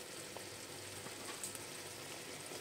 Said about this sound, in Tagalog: Ayan, nakakulo na siya.